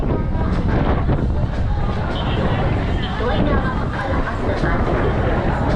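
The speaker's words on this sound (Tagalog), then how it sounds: "Lakas ng hangin ah." Strong wind buffets the microphone in a steady, loud roar with gusty low rumbling throughout, and faint voices murmur beneath it, at a market.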